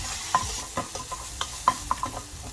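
Onions fry softly in a pan with a low continuous sizzle, broken by a few scraping stirs of a utensil spaced irregularly, close and alone without any voices.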